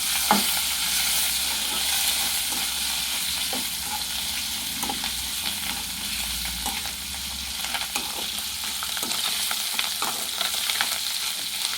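Fish fries in oil in a pan, a steady, nearby sizzle with intermittent spattering crackles and faint stirring taps across the whole stretch, with no one speaking.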